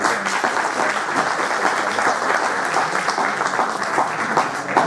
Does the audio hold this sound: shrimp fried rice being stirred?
no